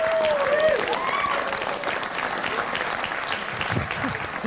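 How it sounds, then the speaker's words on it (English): Studio audience at a late-night talk show clapping steadily throughout, a full crowd applause with a brief whistle-like tone near the start. "You don't have to applaud me hanging up on strangers."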